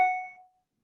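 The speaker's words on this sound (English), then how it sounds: "Sorry about my phone ringing." A phone gives a single short ringing chime with a clear tone that decays quickly into silence, heard alone.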